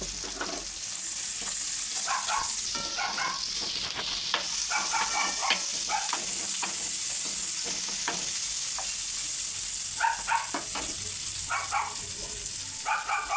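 Chopped onions with turmeric and ginger-garlic paste sizzle steadily in a hot pan, a continuous close frying hiss broken by scattered pops and stirring scrapes, with no talking.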